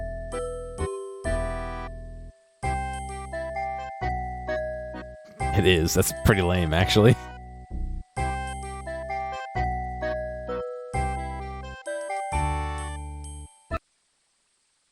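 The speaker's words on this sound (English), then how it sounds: "It's just the regular sea shanty with Christmas bells?" A RuneScape track in a Christmas remix, bells jingling over the looping tune as video game music, with a person talking briefly over it midway before the music cuts out.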